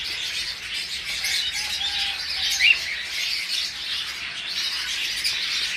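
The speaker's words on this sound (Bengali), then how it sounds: "চমৎকার বাচ্চা সহ ঘুঘু পাখি, সুইটাল ঘুঘু, সাদা সুইটাল, অনেকে ঝুটিওয়ালা ঘুঘু বলে" Crested doves, also called white doves, with their chicks in a bird setting, giving faint soft calls over steady high-pitched background chirping from other birds, with no talking.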